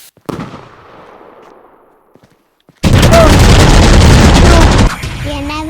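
A firework rocket in the Fireworks Mania video game launches with a sharp crack, then after a quiet fuse pause erupts into a loud, dense two-second roar of bursts and crackles that cuts off sharply.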